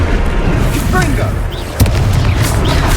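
A Confringo fire spell explosion in Hogwarts Legacy hits with a sudden heavy boom partway through, surrounded by rumbling battle noise and game voices speaking over it.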